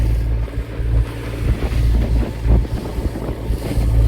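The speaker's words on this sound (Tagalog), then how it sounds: "Sana ay kumalma lang itong hangin at saka alon para hindi kami mahirapan mamaya" Strong wind buffets the microphone aboard a tuna fishing boat at sea, with a deep rumbling roar and the wash of waves against the hull, loud and continuous with no voices.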